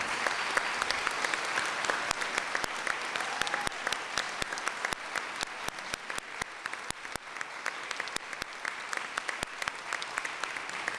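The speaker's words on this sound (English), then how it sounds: "let's give them a round of applause" Students and teachers at a school board robotics presentation receive sustained applause from the audience, a dense, steady wash of many hands clapping that lasts throughout.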